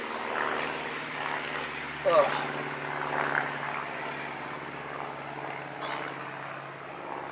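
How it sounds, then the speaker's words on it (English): A propeller airplane drones overhead during compound bow shooting outdoors, a steady low engine hum running throughout under a brief exclamation and a couple of sharp transients. "At least the plane's gone over, because that always annoys me."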